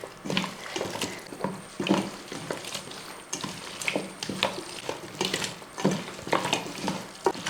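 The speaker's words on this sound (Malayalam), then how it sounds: "ചിക്കനിലോട്ട് മസാലയൊക്കെ ഒന്ന് ചെല്ലത്തക്ക രീതിയിൽ ഇളക്കി കൊടുക്കുക" Chicken pieces worked together with masala by hand for a Kanthari chicken curry: close, soft, wet squelches and slaps in an irregular rhythm, with faint clinks in between.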